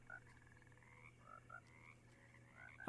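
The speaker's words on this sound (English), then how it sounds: "Hello, frog." Frog croaking in the video game Alone in the Dark, a string of repeated short croaks over a quiet, low hum, ending on a sudden louder sound.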